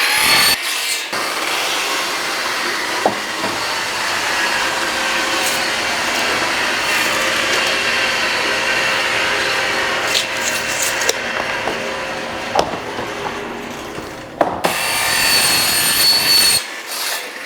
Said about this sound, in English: I'm going to cut these 7 boards at 48 inches. So I'm going to mark it at 48 inches and I'm going to cut.